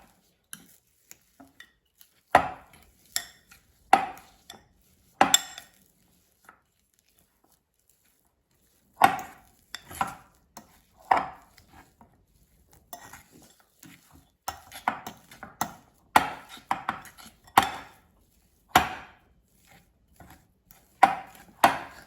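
Mushroom stuffing with Italian seasoning is mixed in a bowl, heard as scattered sharp taps and scrapes of a utensil in irregular bursts with quiet gaps between.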